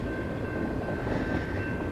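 A slow, heavy train rolls past a crossing, giving a steady, dense low rumble with a faint high whine running throughout, continuous and fairly close with no breaks or horn.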